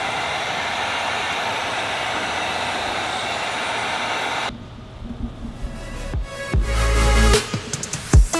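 A heat gun blows steadily while 5% ceramic window tint film is shrunk onto a Toyota Camry window, a loud continuous hiss that cuts off midway and gives way to handling and rustling noises.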